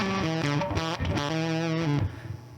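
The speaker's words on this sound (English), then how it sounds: "or some heavier gated fuzz tones." Heavy gated fuzz from an EHX Percolator pedal on electric guitar: a run of choppy, sputtering distorted notes that cut off abruptly between phrases, loud and up front with no talking.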